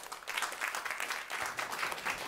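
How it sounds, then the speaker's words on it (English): A short burst of applause from an audience at a panel event on artificial intelligence, dense clapping holding steady for a couple of seconds. "Round of applause, please."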